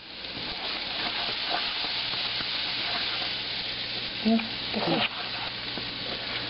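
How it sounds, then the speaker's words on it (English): Flour-coated fish frying in a pan of fat, giving a steady, close sizzle throughout with a couple of brief louder pops, and a voice saying a word partway through. "Is it going to be enough fat in the pan to cook the fish with the flour?"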